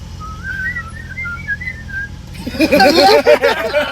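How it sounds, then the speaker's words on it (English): A person whistles a short tune of bright rising notes, then a rapid, louder warbling whistle takes over, close and clear. "Can you do the whistle?"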